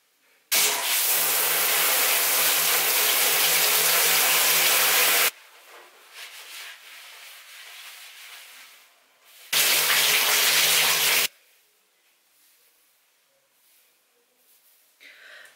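A tap runs loud and steady for several seconds while hair is being washed, stops, then flows again briefly, with quieter handling sounds in the gaps.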